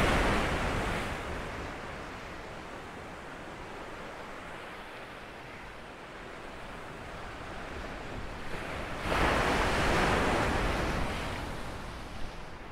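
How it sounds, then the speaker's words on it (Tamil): Sea waves surge and wash against the rocks along a temple shore, a steady broadband roar that swells louder for a few seconds near the end, with wind buffeting the microphone throughout. "அதுக்கிட்ட தான் நல்லா அலை அடிக்குது."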